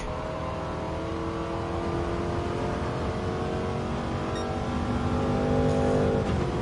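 Historic race cars, including a third-generation Corvette split-window and hardtop, roar steadily as they overtake in Gran Turismo 7 at a Historic Sports Car Masters event, engine drone rising slightly toward the end with no talk.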